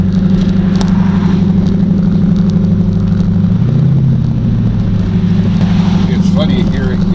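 A C4 Corvette cruising with its top off gives a steady, loud engine drone with low rumble throughout, a brief rise in pitch midway as it revs, and wind and road noise around it.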